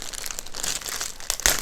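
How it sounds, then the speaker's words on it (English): Thin plastic bag that holds a Diamond Art Club canvas crinkles close by, crackling steadily with a sharper burst of rustling near the end. "All the canvases from Diamond Art Club come in this plastic bag to contain and keep the canvas clean."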